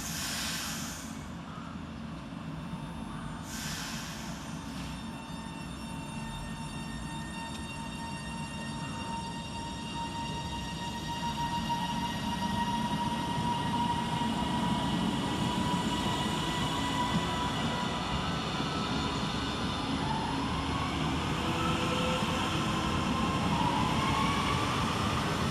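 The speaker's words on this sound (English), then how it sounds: "Departing next from the station will be 397003, working the 1110 Transpennine Express service from Edinburgh Waverley through to Preston." A TransPennine Express Class 397 electric train departs Lockerbie station on the Edinburgh to Preston run. Its rising motor whine and rumble start faint and grow louder and steadier as it pulls away.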